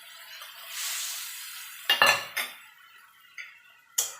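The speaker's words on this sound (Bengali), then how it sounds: "বাটিটা ধুয়ে আর একটু জল দিয়ে দেবো।" A small spice bowl rinsed with water in a kitchen, with a stretch of running water followed by several sharp clinks and knocks of the bowl against a pot, close by and with no speech.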